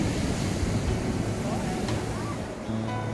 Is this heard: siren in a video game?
no